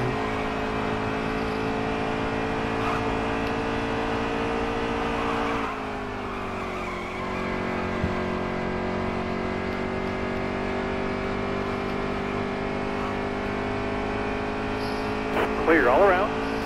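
Race car engine in NASCAR Heat 3, a sustained high-pitched drone that dips briefly and then settles back, with a voice talking over it and a short burst of tire noise near the end.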